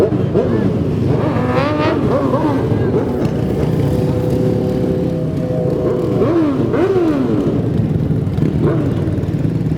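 Suzuki motorcycles riding in a parade, loud engines passing with rising and falling revs, mixed with strong wind noise and background voices.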